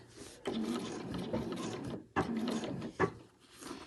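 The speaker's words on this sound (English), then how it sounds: "we're just going to come down here and sew, sew and sew just to hold that in place" Sewing machine stitching along the raw edge of a fabric overlocker cover, two close bursts of motor whirring with a short pause and a brief stop between them, no talking.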